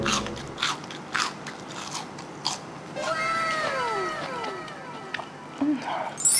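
Someone bites into a crispy fried chicken stick with several loud, close crunches, while a cat meows in the background and a person talks at times.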